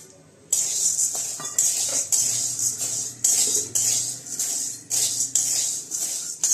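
Dal roasting in a pan over low heat, stirred so the lentils rattle and scrape against the metal in repeated bursts of dry, hissing shuffling, close and fairly loud.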